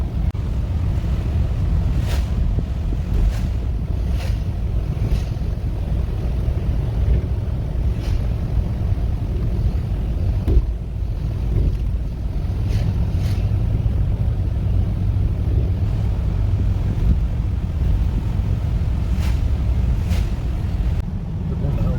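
Strong outdoor wind roars and buffets the microphone during a ride in a blizzard, a constant loud rush with occasional gusts and faint knocks, no talk.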